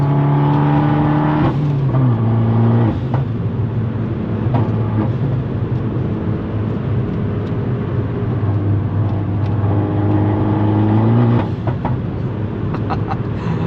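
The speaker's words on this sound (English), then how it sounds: "This thing makes an unbelievably good sound." A Fiat 500 Abarth turbo with a 5-speed manual drones loudly and close, its engine note rising and falling through several revs, with a few sharp pops scattered through the run.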